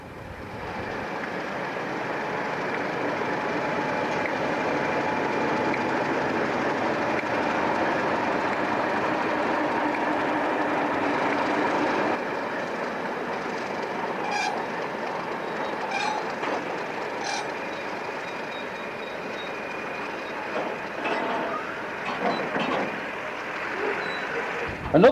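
British Rail diesel locomotive 31541 running along a heritage railway, a steady rumbling engine drone that eases off midway into lighter wheel clatter and scattered clicks and knocks, with speech underneath.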